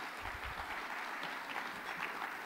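A crowd at a state party convention gala in Orlando claps in a soft, distant patter that holds steady through a short stretch, with no speech over it.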